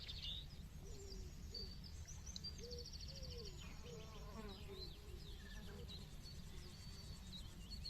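Insects buzz steadily across a meadow in a continuous close drone, with scattered bird chirps and calls over the top throughout.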